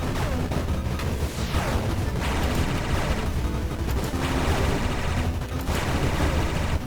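Excalibur bullets firing in the twin-stick shooter Star of Providence, a continuous dense barrage of rapid game gunfire that stays loud and unbroken throughout, with no talking.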